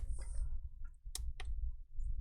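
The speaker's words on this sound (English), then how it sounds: "I can feel the clicking sound on the clicker, which is good" Sharp clicks from a repaired power button on a Dell 3593 P75F laptop, a few distinct close clicks spaced apart over a low background hum, with no talking.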